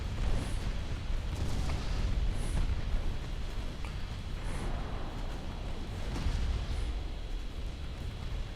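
Naval gunfire in the Ultimate Admiral Dreadnoughts game, a battle against Italian battleships: a continuous dense rumble of distant booms with periodic sharp cracks roughly every two seconds, loud and steady throughout.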